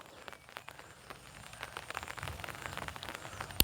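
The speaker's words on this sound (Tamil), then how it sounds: "இப்போவும் மழை சரியாக துமிச்சு கொண்டு தான் இருக்கு" Light rain falls on a village rice field in Mullaitivu district, a faint, soft patter of scattered drops that thickens slightly over a few seconds, with no talk.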